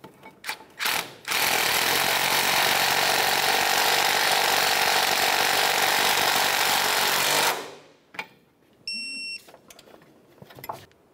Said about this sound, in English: We're gonna hold the stud with a 19 millimeter wrench and snug the nut